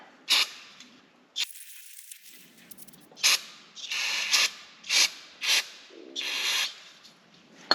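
Short bursts of cleaner sprayed onto a Bobcat attachment part during a repair, a series of about eight sharp hissing spritzes at irregular intervals, close and clear with no talk.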